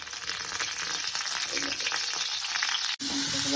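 Curry leaves, ginger, garlic and chili dropped into hot oil give a loud, dense crackling sizzle. It runs continuously, breaks off for an instant, then resumes.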